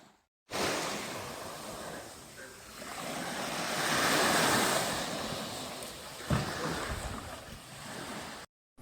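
Rough sea waves surge and wash around a boat offshore from Penang in the Straits of Malacca, a loud, continuous roar with wind buffeting the microphone and a sharp splash partway through.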